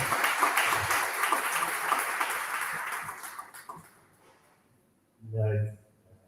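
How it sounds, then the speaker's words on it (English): Audience clapping welcomes a professor to the floor at a lecture on decolonising the university, a crowd of hands clapping steadily for about three seconds before fading out, followed by a short spoken voice. "Let's give him a clap."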